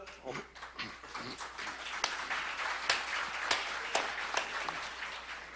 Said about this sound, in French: Ça me fait penser justement à ces applaudissements